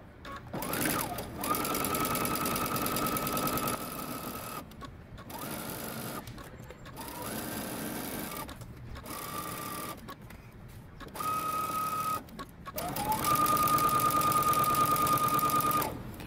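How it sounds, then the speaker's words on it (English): A sewing machine runs in several bursts as it stitches the side seam of a jumpsuit, starting at the hem and working upward. Short pauses separate each close, steady run of whirring stitches. "I'm going to start sewing at the hem"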